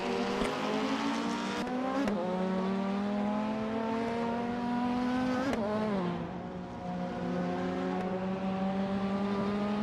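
An Alfa Romeo 156 GTA touring race car at Oran Park holds a loud, sustained engine note with a steady rising pitch, a brief dip and gear change midway, then climbs again, close and continuous with no talk.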